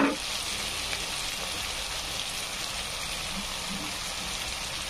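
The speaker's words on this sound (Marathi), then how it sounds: "तेलामध्ये असा मस्तपैकी तळत आहे" Masala for pulao rice frying in hot oil, a continuous bright sizzle and crackle held at an even level throughout, close by, with no talking.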